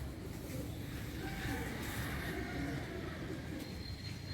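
Pigeons coo softly and steadily in a loft setup in Qatar, with a continuous low murmur of birds close by and no clear talk.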